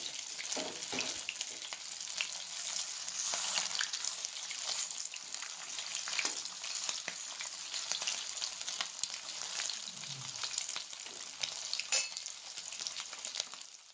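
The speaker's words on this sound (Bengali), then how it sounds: "এবার এগুলোকে উল্টে নিতে হবে উল্টে নিয়ে অন্য পাশটাও ভালো করে ভেজে নিতে হবে" Chicken pieces fry in hot oil in a pan for a Bengali-style dry chilli chicken, giving a steady, close, crackling sizzle that runs for the whole stretch with occasional sharper pops and no talking.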